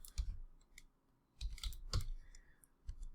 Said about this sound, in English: you're going to just type in here simple